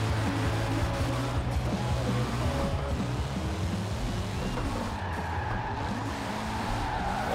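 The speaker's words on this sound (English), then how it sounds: "car sounds pretty good" A revving car engine with tire squeal and skidding, steady and loud throughout, in the racing game Forza Horizon 4 played with a steering wheel.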